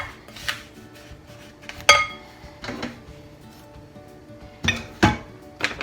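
Graham cracker crumbs and a quarter cup of melted butter being mixed in a dish with a utensil, giving sporadic clinks and scraping knocks against the dish at an irregular pace, close up and with no talking.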